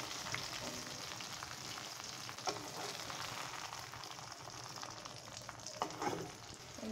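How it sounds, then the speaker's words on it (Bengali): Chopped onion, garlic and four or five green chillies sizzle steadily in hot oil in a pan, a continuous quiet frying hiss with occasional soft stirring clicks and no talking. "আমি তেলের ভিতরে পেঁয়াজ, একটু রসুন আর 4-5টা কাঁচামরিচ দিয়ে দিলাম"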